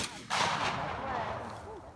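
A single gunshot fired outdoors at a target rings out sharply near the start, followed by a long decaying echo.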